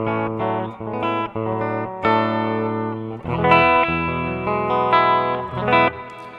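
Overdriven electric guitar through a Mooer GE200 effects unit playing a run of distorted notes and chords, moderately loud and continuous.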